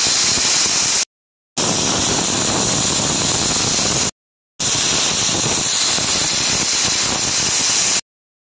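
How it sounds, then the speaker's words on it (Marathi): A pressure cooker whistles while cooking rasam rice with vegetables and ghee, giving three loud, sustained hissing steam blasts separated by short silent gaps. "ह्याचं झाकण लावून घेते आणि कुकरच्या 3 शिट्ट्या करून घेते"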